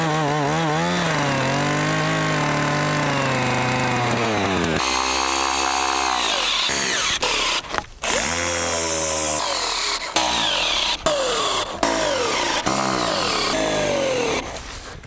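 A chainsaw runs loud and close, its engine pitch revving up and down with brief drops and bites as it cuts.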